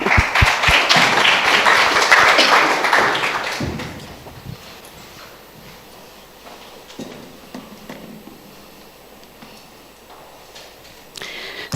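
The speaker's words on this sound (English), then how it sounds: "under our applause" Audience applause at an international conference session on human mobility and climate adaptation, loud at first and then fading after about four seconds into a quiet room with scattered knocks and shuffles.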